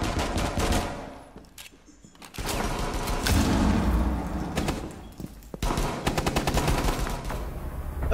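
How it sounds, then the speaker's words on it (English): A frag grenade and gunfire in a video game: rapid bursts of automatic shots, a pause, then heavy booming blasts and more rattling gunfire, loud and close throughout. "Throwing frag grenade."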